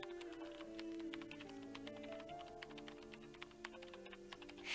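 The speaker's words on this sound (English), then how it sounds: "I feel like I've been typing forever." Rapid keyboard typing in the video game Nancy Drew: Curse of Blackmoor Manor, a dense run of clicky keystrokes over a soft sustained musical background.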